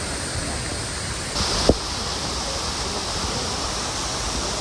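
The Cascadas de Tamasopo waterfall roars as a loud, dense, continuous rush close by, steady throughout with one brief faint knock.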